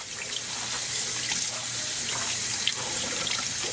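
Tap water runs in a steady, close, hissing stream into a sink with small splashes as cherry-dyed yarn is rinsed.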